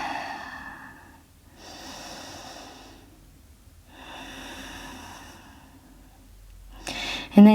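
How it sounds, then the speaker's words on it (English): Slow, deep breaths during a yoga practice in a squat fold, each long inhale and exhale close to the microphone with soft airy rushes and brief pauses between, ending in a sharper, louder breath. "taking a deep breath here"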